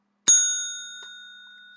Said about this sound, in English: When I hit the bell, you're just going to take a deep breath.